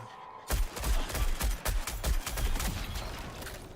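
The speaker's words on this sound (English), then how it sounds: "Jeez, this is a lot of gunfire." Dense, rapid video-game gunfire in Marathon crackling continuously, many overlapping shots in quick bursts, loud and close, with no talking.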